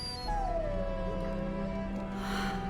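A dog whimpers in Dragon Age: Origins with one drawn-out, falling whine that fades over steady game background sound.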